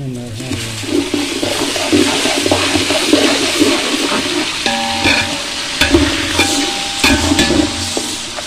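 Onions that have gone light brown fry with garlic-ginger paste in a large pot for Sindhi biryani, a loud continuous sizzle with stirring and scraping of the pot and a few clanks, close by.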